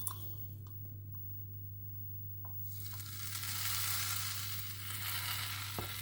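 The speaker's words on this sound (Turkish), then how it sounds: "Hemen üzerine naneli, tereyağlı sosumuzu ilave edelim." Hot mint butter sauce hits a bowl of Hünkar soup and sizzles, a faint crackle that swells into a steady close frying hiss after a few seconds of quiet clicks.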